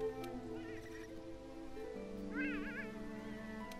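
A Palico cat companion in Monster Hunter World meows several times, with rising and falling calls standing clear over a quiet game backdrop and no voice in between.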